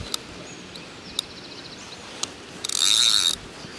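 A fishing reel's drag gives a short burst of rapid ratcheting clicks while a carp is played on the method, after a few faint isolated ticks, with no voices.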